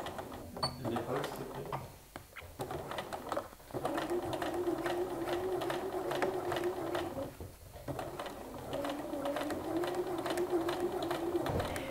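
A sewing machine runs straight stitches on a jeans front pocket in long steady buzzing bursts with brief pauses between runs, close by and clear.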